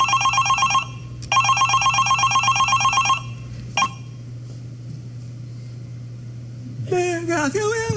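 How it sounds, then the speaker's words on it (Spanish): A telephone rings loudly in two long trilling bursts with a short gap between them, then goes quiet apart from a click. A warbling electronic tone rises near the end. "Tiene que contestar el teléfono porque puede ser una llamada importante."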